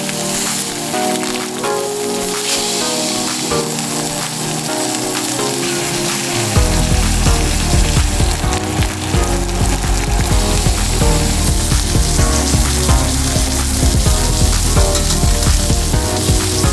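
Steak sizzles and spits loudly in a hot pan while being basted, a steady dense crackle that grows fuller and heavier about halfway through.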